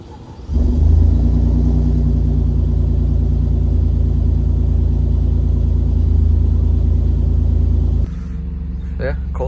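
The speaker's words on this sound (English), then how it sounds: "See how that cold start sounds." A station wagon's engine cold-starts at about half a second and settles into a steady, loud, close idle rumble, then the sound drops away near the end.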